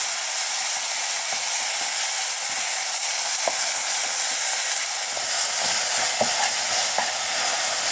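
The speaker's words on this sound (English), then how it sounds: "we need to cook this on this very high heat for about 2 more minutes, constantly stirring" Collard greens and kale stir-fry over very high heat with a strong, continuous roaring sizzle, overlaid by frequent clinks and scrapes of constant stirring, close and loud with no voices.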